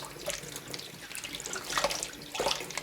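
Cross stitch fabric is rinsed under a running tap, with water splashing steadily into a sink and a few louder swishes and drips as the cloth is turned front and back, close by.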